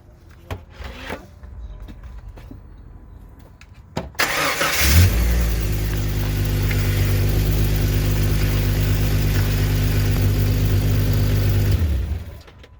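A Jeep ZJ engine cranks and catches after a few quiet clicks and thumps, then settles into a loud, steady idle that holds for several seconds before cutting off.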